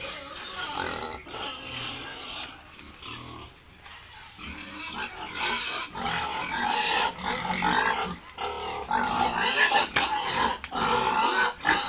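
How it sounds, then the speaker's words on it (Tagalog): Several pigs grunt and squeal in a small farm piggery ahead of feeding time, a busy, fairly close chorus of overlapping oinks that grows louder and more agitated toward the end. "we'll be going to my small piggery para pakakainin na po sila ngayong hapon."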